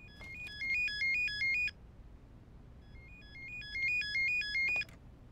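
Electronic telephone ringtone in a TV studio sounds two bursts of rapid warbling tones separated by a short pause, clear and moderately loud over a quiet background.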